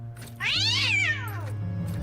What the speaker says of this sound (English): Just because a cat meows at you doesn't mean you can't explore the room.